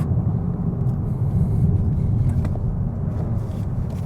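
A 2025 Mazda 3 Premium revving hard past 4,000 RPM under acceleration, a continuous loud low engine drone heard from inside the cabin, steady with slight swells.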